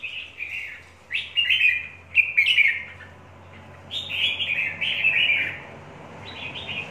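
Red-whiskered bulbuls from the limestone mountains of Lạng Sơn sing in cages, a run of bright, warbled phrases in short bursts separated by pauses, close and fairly loud over a faint steady hum.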